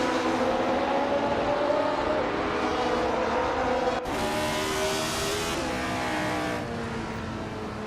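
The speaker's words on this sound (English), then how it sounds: "Nico Broadcast is driving a Porsche 804 from 1962." A 1962 Porsche 804 race car in a racing video game gives a loud, steady high-pitched engine whine that holds close throughout, with pitch shifts and gear changes partway through.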